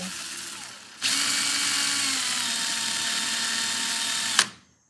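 A power drill whirs steadily at close range for a few seconds, spinning an Edison governor metal part for polishing, its high-pitched spin starting abruptly and cutting off sharply at the end.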